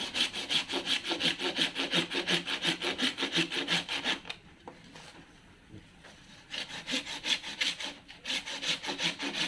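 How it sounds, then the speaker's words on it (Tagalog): A sharp handsaw cuts steadily to split something open, its rhythmic back-and-forth strokes rasping loud and close, pausing briefly midway before the even strokes resume. "mas maganda guys pag matalas yung lagaring gagamitin natin para mabilis lang"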